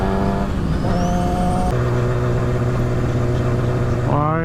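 Cars moving through slow traffic, a steady engine hum with tonal whine that rises and shifts, heard from inside a vehicle at close range.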